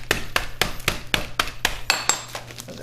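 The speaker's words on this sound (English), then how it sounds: "I take my meat tenderizer hammer, and I give them a few whacks" A meat tenderizer hammer strikes dates sealed in a Ziploc bag on a kitchen counter, landing about ten sharp, evenly spaced whacks close up with no talking.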